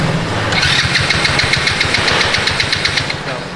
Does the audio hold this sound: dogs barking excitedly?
no